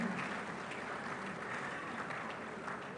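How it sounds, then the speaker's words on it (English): Audience applause at a public lecture by an architect at a university, a steady, even wash of clapping across the whole stretch at moderate level with no voices over it. "Please give him a round of applause."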